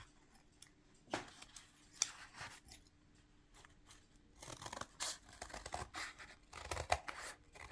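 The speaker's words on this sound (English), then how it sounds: "I am going to cut this out" Scissors snipping through paper for a western-themed junk journal, a run of sharp, crisp cuts that start sparse and quiet, then grow into denser, louder bursts of snipping near the microphone.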